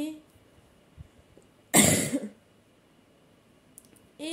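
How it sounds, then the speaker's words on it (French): A single sharp cough bursts out close to the mic from someone recovering after an operation, a brief harsh burst amid a quiet room with faint clicks around it. "Je tousse quand même."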